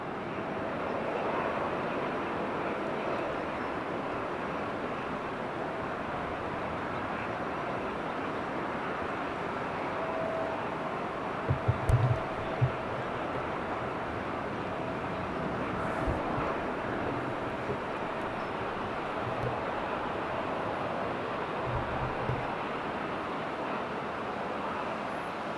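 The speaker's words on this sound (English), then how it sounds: "So the 777 still isn't going because there's an E175 on the runway, which is going now" An Embraer E175 jet takes off from a runway, a steady, distant broadband roar of engine and rushing air that holds evenly throughout, with a few faint low thumps partway through.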